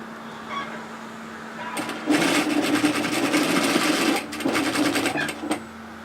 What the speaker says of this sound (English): So we're sewing up the side of the gusset,